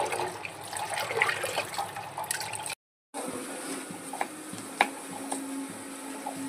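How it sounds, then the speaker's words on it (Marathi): Running water streams steadily from a tap as garlic, ginger, coriander and chillies are washed, with splashing and occasional clinks, interrupted by a short silent gap midway. "लसूण, अद्रक, कोथिंबीर, मिरची स्वच्छ धुवून घ्या पाण्याने"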